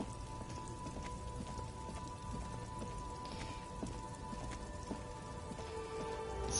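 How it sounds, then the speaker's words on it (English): Rain falls in the video game Disco Elysium, a steady, quiet patter of drops on a surface with no talk over it. "Stuck in the rain in a traffic jam, man."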